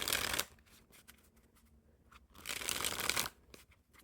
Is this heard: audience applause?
no